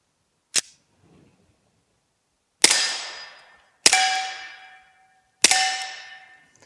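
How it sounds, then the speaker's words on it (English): Four suppressed shots of 230 grain PMC 45 ACP through a Liberty Cosmic suppressor, each a sharp muffled crack spaced a second or two apart, the last three followed by a ringing ping from a steel target. "we got just 5 rounds of standard 230 grain 45 ACP from PMC, and here we go."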